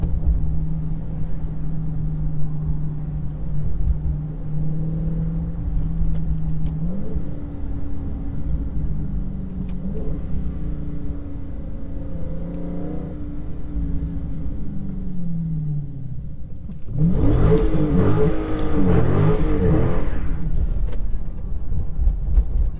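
A Dodge SRT car engine idles low and steady, its pitch rising and falling with occasional revs, then surges into a louder, harsher revving burst near the end.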